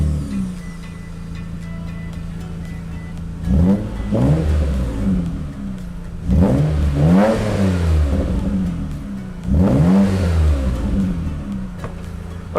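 A 2006 Mitsubishi Eclipse fitted with a cheap $40 performance muffler idles steadily, then revs sharply three times in spaced bursts, each rising and falling, close and loud with no voices.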